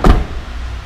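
A car door shuts with a single short thump right at the start, close and fairly loud, followed by a low background hum.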